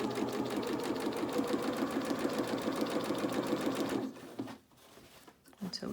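A sewing machine runs fast and steady, stitching fabric for a doll's dress, then stops abruptly and leaves quiet room noise and faint rustling.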